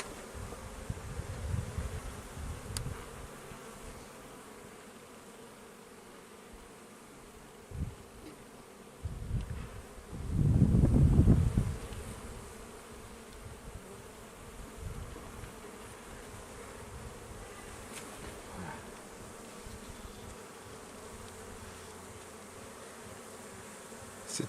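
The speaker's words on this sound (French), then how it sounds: "on a beaucoup plus d'abeilles" Honeybees buzz around an open beehive during a full hive inspection, a steady faint hum with individual bees droning close past now and then, one swelling loudly for a couple of seconds, amid light handling knocks.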